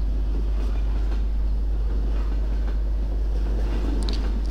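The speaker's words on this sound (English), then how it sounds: "I can definitely hear a train." A train rumbling along in the Source mod game Precursor, a steady loud low roar with faint rail clatter continuing throughout, no voices.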